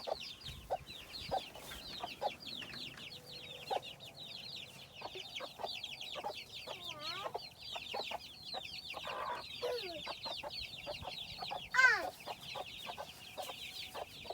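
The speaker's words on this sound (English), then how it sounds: "Hey, good morning, chickens." Several chickens cluck and chatter continuously at close range, with a louder squawk near the end and soft rustling underneath.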